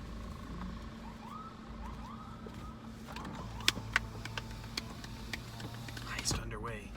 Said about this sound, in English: Though I did hear a siren, they might be after us.